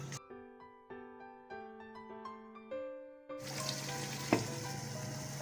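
Mutton karahi cooking in a pan sizzles and fries steadily while a spoon stirs the meat. Tonal notes precede it, and a sharp clink of the spoon stands out near the end.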